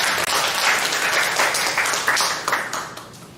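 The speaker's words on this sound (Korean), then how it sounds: "하나님께 영광의 박수 올려드리겠습니다" A congregation at a high school worship service claps together in sustained applause, loud and fairly even, thinning out slightly toward the end.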